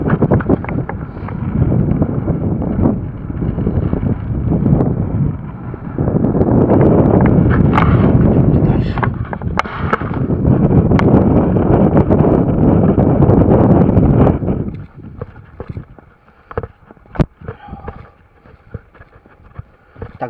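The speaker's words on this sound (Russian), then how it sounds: "Здесь ветер сильный." Strong wind on rocky terrain near Sudak buffets the microphone in loud, roaring gusts, then drops away to quieter rustling and scattered light knocks.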